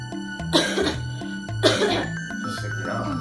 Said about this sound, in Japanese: インフルエンザかかってからもう咳が止まらなくて